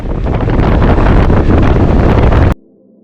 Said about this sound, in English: I still get hit with wind